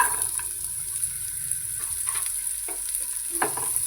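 Chopped capsicum, carrot and onion sauté in a pan with a steady, close sizzle, broken by light scraping and stirring clicks.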